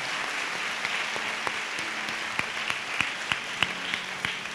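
A church congregation at a year-end fasting prayer session claps loudly and continuously, with steady crowd applause and a few sharper, rhythmic hand claps standing out; there is no talk.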